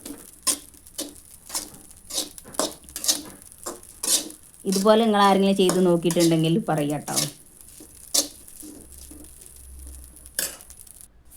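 A spoon scrapes and taps against a pan while roasting food is stirred, in a quick irregular run of sharp metallic clicks, with someone talking over a short middle stretch.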